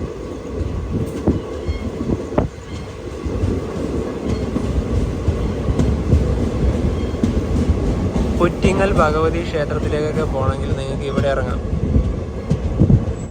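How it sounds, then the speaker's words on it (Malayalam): The Maveli Express rolls into Varkala Sivagiri station with a continuous rumble, rattle and rail clatter, close and steady, while someone talks over it. "വർക്കല ശിവഗിരി റെയിൽവേ സ്റ്റേഷനിലേക്ക് ഇതാ ട്രെയിൻ എത്തിയിരിക്കുകയാണ്"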